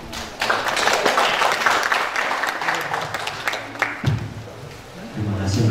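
An audience at an Indonesian book launch for a profile of Yogyakarta sculptors gives a burst of clapping lasting about three and a half seconds, fairly close, followed by a voice speaking into a microphone.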